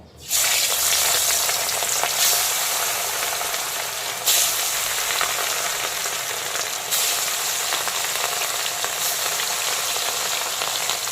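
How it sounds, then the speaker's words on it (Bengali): Rohu fish pieces rubbed with salt and turmeric hit smoking-hot mustard oil, setting off a loud, dense, continuous crackling sizzle that surges again twice as more pieces go in. "এখন আমি লবণ আর হলুদ মাখানো রুই মাছগুলোকে একে একে তেলের মধ্যে দিয়ে দেব।"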